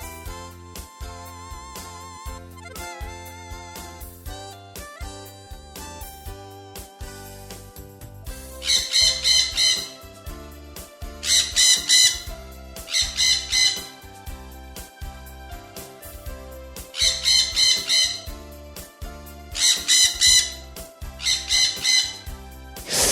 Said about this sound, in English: Parrot.